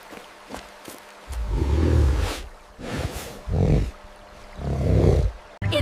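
A bear gives three or four deep, rumbling growls in separate bursts, each swelling and fading, fairly close and alone.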